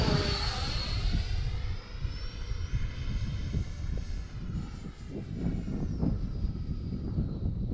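Marlin airplane with its engine at half throttle on a slow pass, no flaps: a steady, continuous drone that holds level throughout, with a faint high whine sliding in pitch, close and alone without voices.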